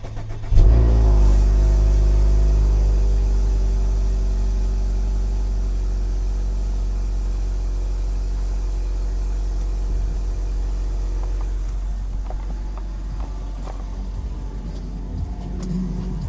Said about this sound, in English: I'm actually going to do a little cold start for you guys.